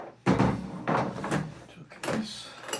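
A tool case being opened while working on a Homelite UT08572: several clunky latch-and-lid knocks in separate bursts, close and moderately loud, with no talking over them.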